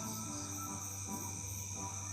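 Rice-field insects at night, a steady faint buzzing and chirring drone that runs evenly throughout with no voices.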